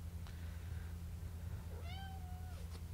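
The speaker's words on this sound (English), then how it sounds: "We got a kitty over here. Don't know if you guys can hear him, but he's over here making some noise." A cat meowing indoors for attention, two drawn-out meows at close range over a low steady electrical hum, with no voices.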